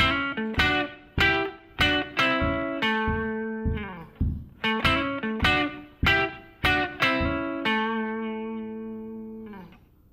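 Blues guitar riff in A over a 12-bar blues form, syncopated and picked as clean plucked notes and short phrases in a steady rhythm, each note ringing and decaying, played alone without talk.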